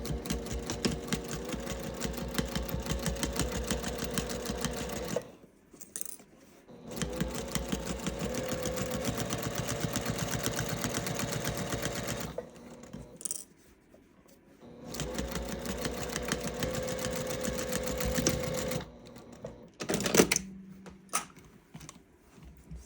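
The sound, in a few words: sewing machine stitching binding on a quilted gift bag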